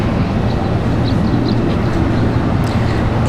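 An Alaska Airlines jet departs at Washington Dulles, a loud, steady broadband roar with a heavy low rumble, continuous and unbroken.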